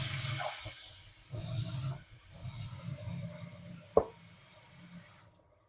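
Water pours from the tap of an Aquaphor Modern home purifier into a container, a steady hiss that stops and restarts in short bursts, with a brief knock near the end before it cuts off.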